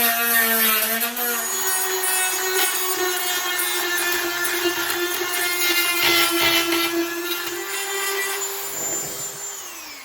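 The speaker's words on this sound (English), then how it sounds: "I'm using a Dremel with a sand flap, and I use a foot pedal with my Dremel just to make my life easier" A Dremel rotary tool fitted with a sanding flap wheel, run from a foot pedal, grinds steadily against a metal teapot spout, a continuous high whine with shifting pitch that dips and rises, close and loud throughout.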